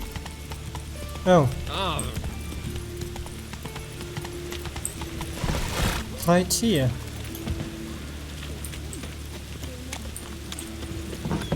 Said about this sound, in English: Not easy to walk these paths with the horse.